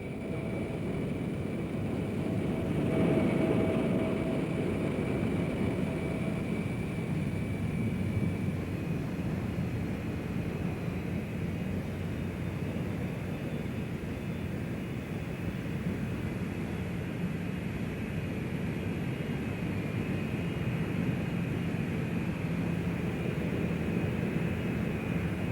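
Engines of a Rockwell B-1B bomber give a steady, loud, continuous roar with a faint high whine, holding at an even level for the whole stretch with no talking.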